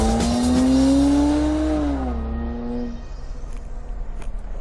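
A Jaguar F-Pace with a petrol V6 is driven hard through corners, its loud engine note climbing steadily under acceleration, then dropping sharply at a gearchange and settling into a quieter, rougher drone.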